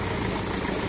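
An old Belarus tractor, kept in original working condition since about 1970 in India, idling steadily close by with a dense, continuous rumbling drone and no speech.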